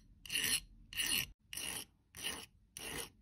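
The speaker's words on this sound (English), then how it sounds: "grab a file and file that sharp edge down because it has left a nasty sharp edge" A metal file rasps along the sharp cut edge of a spoon ring, five even back-and-forth strokes in a steady rhythm with short pauses between, close and clear.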